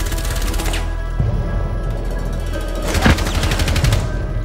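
Gunfire in Rainbow Six Siege, with sharp impulsive shots around 1.2 s and 3 s and rapid crackling bursts amid dense game background noise.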